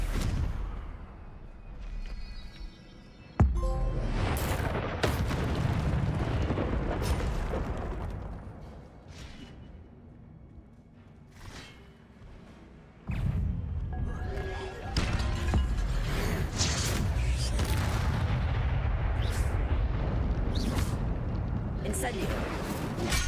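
Hogwarts Legacy spell-casting combat on PS5 Pro, with dense, continuous magical blasts, whooshes and booming impacts, sharp bursts and crashes throughout, loud and layered under a voice talking intermittently.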